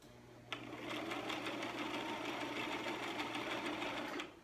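A sewing machine stitches a fabric Batman cowl, starting abruptly and running at a steady, rapid whir for several seconds before stopping, close and alone with no talking.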